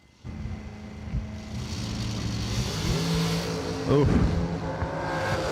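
Drag race cars launch and accelerate down the strip at a JEGS SFG 500K event, a loud rising engine roar building steadily after a sudden start, with a brief exclamation from a voice partway through.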